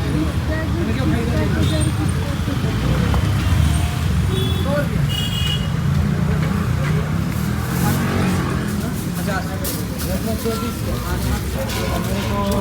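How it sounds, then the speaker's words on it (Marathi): Dense road traffic rumbles steadily close by, engines droning and revving throughout, with people talking over the constant noise. "हे बघा हे ट्रॅफिक तुम्ही बघू शकता. Complete pack traffic."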